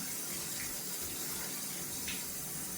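A shaving brush knot is rinsed under a running tap, giving a steady, even rush of water with a couple of faint splashes partway through, heard alone and close.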